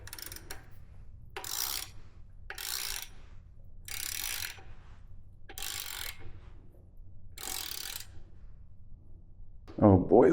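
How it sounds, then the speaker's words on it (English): A ratchet tightens a rocker stud on a pressure washer engine, giving several rasping bursts of clicks with pauses between them, close up, while someone speaks quietly around the strokes. "Maybe I can ratchet."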